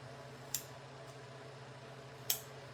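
Scissors snip through foam tape twice, two sharp, close cuts about two seconds apart in an otherwise quiet room.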